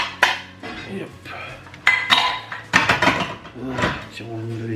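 Dishes and cutlery clatter and clink in irregular bursts, close by, as items are handled and stacked, with occasional speech in the background.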